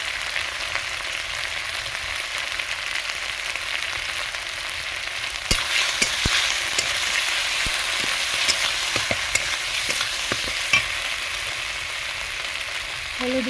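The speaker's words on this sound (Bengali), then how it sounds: "ভালো করে মশলাটা ভেজে নেব" Spices (poppy seed paste, cumin paste, dry chilli powder and turmeric) fry in oil for a Bengali hilsa fish curry with a steady, loud sizzle and occasional sharp spatula clicks.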